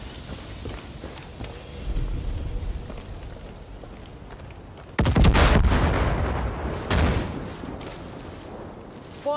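A vehicle blows up in the video game Far Cry New Dawn with a loud, broad booming blast and rumbling debris that tails off over a couple of seconds, followed by a second burst, after quieter scattered gunfire and footsteps.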